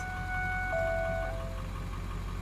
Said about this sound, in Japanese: いかにもディーゼルエンジンという感じ、トラック的ですね。